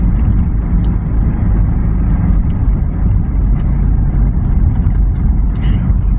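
A car drives along a highway on a July day, heard from inside as a loud, steady low rumble of engine and road noise that never lets up.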